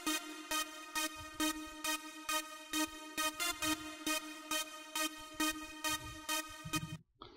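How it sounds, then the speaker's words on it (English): Massive lead synth for an electro trap track plays a rhythmic pattern of short, bright, evenly spaced stabs over light low thumps, loud and clean, ending abruptly, with no voices. "The next part I have here is the lead,"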